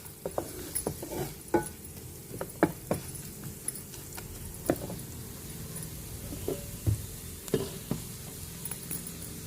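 Onions with green chillies and ginger sautéing in a pan for cauliflower soup give a quiet, steady sizzle broken by scattered sharp crackles and pops, with no voices.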